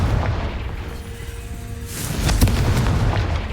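In the Hogwarts Legacy video game, a Confringo blasting spell goes off with a deep booming explosion over a rumbling game background, one burst of blast noise near the middle, no talking.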